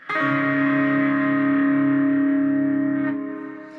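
An electric guitar on the bridge pickup rings out a single sustained, effects-laden chord, bright and slightly distorted, holding steady for a few seconds before fading.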